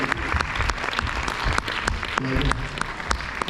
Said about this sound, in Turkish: kardeşim Murat Kursun'a bir alkış rica ediyorum önce